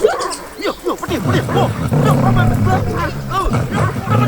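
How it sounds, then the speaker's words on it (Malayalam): A dog barks and yips repeatedly at a house in a Malayalam comedy scene, mixed in with excited overlapping voices and shouting. "പട്ടിയാണ് അവറാന്റെ"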